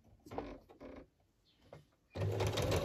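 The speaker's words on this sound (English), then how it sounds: "let's stitch around that. I can actually stitch around all of it, I think." A sewing machine runs zigzag stitches on fabric for a small notebook and tag, with short stop-start bursts and then a steady, louder run, heard up close with no speech.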